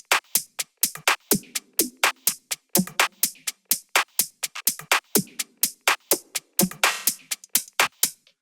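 A busy minimal deep tech percussion groove of sharp, bright hits in a steady driving rhythm, layered drum loop with short one-shot accents, loud and continuous with no voices.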